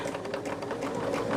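A sewing machine stitches quilt rows from a disappearing four-patch block, its needle chattering in a rapid, even mechanical rhythm, close and steady with no talk over it.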